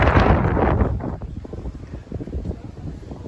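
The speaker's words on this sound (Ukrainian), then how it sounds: "Вітер розібрався." Steady wind buffeting the microphone, a loud rushing gust at first that settles into a rumbling, fluttering blow with no voices.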